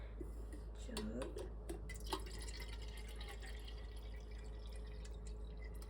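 Water trickles and drips softly into a watering jug being filled for a thirsty houseplant, a faint, close splashing with a quiet voice murmuring over it.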